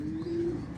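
A pigeon coos once, a steady low call lasting under a second, heard close over faint wind in an overcast outdoor setting.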